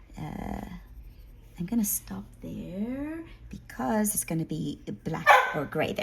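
Dog barking and yipping several times in short bursts, a few sharp and others whiny, fairly near, mixed with someone talking softly.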